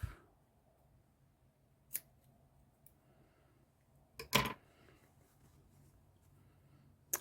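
Scissors snip crochet yarn close by in a quiet room, with a couple of sharp, brief cuts and a louder double snip standing out against near silence.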